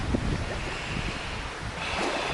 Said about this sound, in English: there is a lot of wind right now